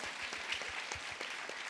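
Steady applause from a crowd, dense overlapping claps filling the whole stretch at an even, moderate loudness.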